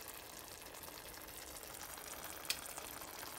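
Ground beef browning in a pan for taco filling gives a faint, steady sizzle, a soft even hiss with one small tap partway through, quiet and unbroken.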